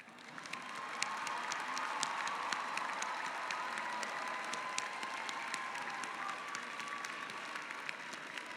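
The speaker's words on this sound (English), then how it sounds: "Would the graduates please rise and turn to lead us in applause for your families and friends" A large crowd at a 2019 Simmons undergraduate commencement ceremony applauds families and friends, with steady, dense clapping sustained throughout, filling the hall evenly at moderate distance without letting up.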